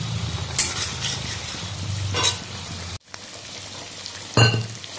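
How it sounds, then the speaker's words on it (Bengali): Potato and papaya sautéing with spices in a pan: a steady close sizzle and frying hiss throughout, broken by a few sharp scrapes and clinks of a spatula against the pan. "আলু আর পেঁপেটা ভালো করে মশলা দিয়ে কষিয়ে নিচ্ছি"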